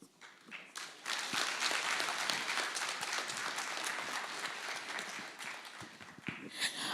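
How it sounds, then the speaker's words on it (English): Sustained applause from a conference audience, a dense wash of many hands clapping that swells after a brief quiet start and holds steady, loud and close, with no speech over it. "Can my boss please get another round of applause?"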